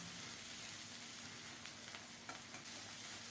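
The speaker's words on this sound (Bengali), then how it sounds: "ভালোভাবে নেড়ে চেড়ে সুন্দর মতো কষিয়ে নিয়েছি" Onion with garlic paste, ginger paste and ground coriander-cumin fries in a pan as a faint, steady hiss, with a few soft stirring scrapes toward the end.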